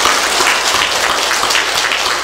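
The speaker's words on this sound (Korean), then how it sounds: "큰 격려의 박수 한번 부탁드립니다" Congregation applause during an Easter Sunday church worship service: dense, steady clapping from a large crowd, loud and continuous for the whole stretch with no pause.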